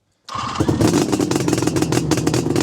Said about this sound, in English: It fires up really easily, the engine's really smooth.